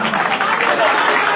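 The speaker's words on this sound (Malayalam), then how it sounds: "കളികളൊക്കെ കൈയടിച്ച് സ്വീകരിക്കും." Crowd clapping at an All Kerala Vadamvali tug of war match, a thick continuous burst of applause from many spectators, loud and close, mixed with a blur of voices.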